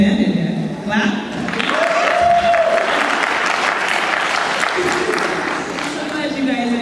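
Applause from an audience at a Miss Africa Nebraska beauty pageant fills the space, with voices talking over the clapping throughout.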